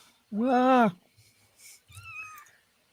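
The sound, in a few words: cat meowing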